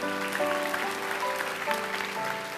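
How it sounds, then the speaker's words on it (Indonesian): Church congregation clapping during a sermon, a moderate, sustained patter of many hands over a couple of seconds, with musical tones sounding underneath. "Beri tepuk tangan untuk Tuhan."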